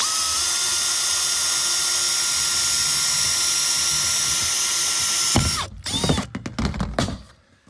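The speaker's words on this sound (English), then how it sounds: "I take and drill our pilot hole first" A steady high-pitched whine of a power drill runs for about five seconds, then breaks into short bursts and clunks as the bit finishes.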